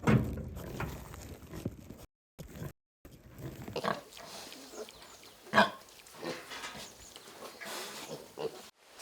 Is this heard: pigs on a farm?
yes